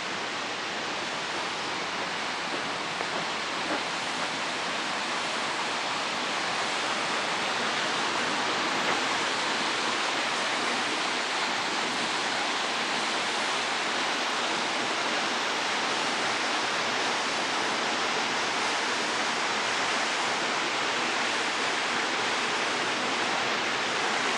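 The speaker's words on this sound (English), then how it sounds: "Look at there's a waterfall around over here too." A waterfall in Shimoda, Japan roars as a steady, dense broadband rush of falling water, loud and close, continuing unbroken for the whole stretch with no voices over it.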